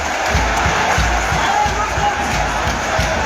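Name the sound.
football fans applauding in the stands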